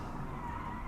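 Tires skid steadily under locked brakes on a car in the BeamNG driving game, with a continuous close screech and no talking over it.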